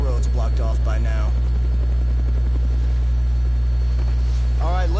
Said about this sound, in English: Helicopter was the way to go.